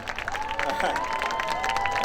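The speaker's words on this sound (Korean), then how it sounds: "큰 박수로 맞이해 주시기 바랍니다" Dense applause from a crowd at an outdoor presidential campaign rally at a Seoul bus terminal, greeting a guest architect. It is a steady, wash-like clapping that holds for about two seconds, with a faint sustained tone running underneath.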